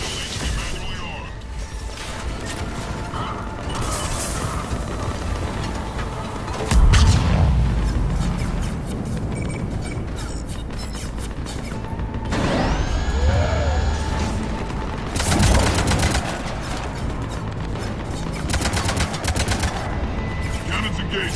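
Ship cannons in Mass Effect 3 let off a series of heavy booms and rapid gunfire bursts amid a loud, busy battle soundscape, with voices speaking over the action.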